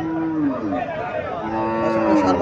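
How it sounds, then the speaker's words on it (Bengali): A Haryana breed cow lets out a low, drawn-out moo twice in close succession, loud and near, with faint background chatter. "এখানে হরিয়ানা জাতের একটা গাভী দেখা যাচ্ছে"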